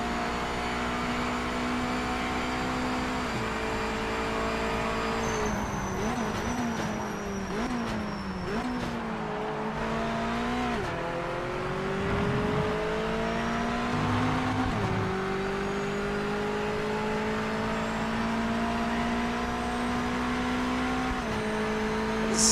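Race car engine in the video game Project Motor Racing, a sustained buzzing drone that climbs and drops with gear changes and throttle lifts, steady and fairly loud throughout with no talking.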